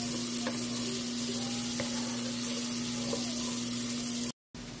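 Garlic sizzles in a frying pan with oil, a soft continuous crackling hiss under a steady low hum, with a few faint clinks, then a brief dropout near the end.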